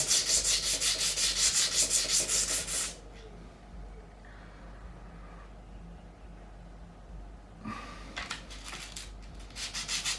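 A bridge saddle from an Auden Model Austin electro-acoustic guitar is sanded into a wedge with loud, continuous back-and-forth rubbing strokes, then a quiet pause, then a few more close strokes.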